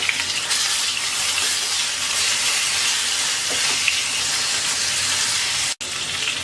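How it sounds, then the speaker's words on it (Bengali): Eggplants for bakhra begun frying in a pan, a steady broadband sizzle that runs continuously with little change, cut by one very brief drop near the end. "বেগুনগুলোকে উল্টিয়ে পাল্টিয়ে চারপাশে ভালোভাবে ভেজে নেব।"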